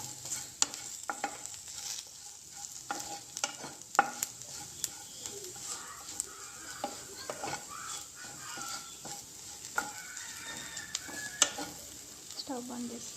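Ivy gourd fry with coriander powder and chili powder stirring and sizzling in a pan, with steady soft frying hiss and repeated scraping clicks of a spatula, close and moderately quiet.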